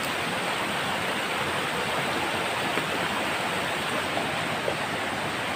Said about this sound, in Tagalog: Parang lumakas na namang agos.